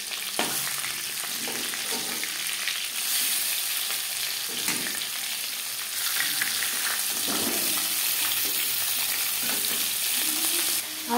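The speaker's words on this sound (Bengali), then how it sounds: "মাছ এক পিঠ ভাজা হয়ে গেছে, অপর পিঠ উল্টে দেব।" Pieces of catla fish frying in hot oil and being turned over, a continuous close sizzle with intermittent scrapes and knocks of the spatula, slightly louder in the second half.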